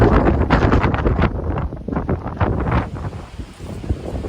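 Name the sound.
wind on a cliff ledge, Appalachian Trail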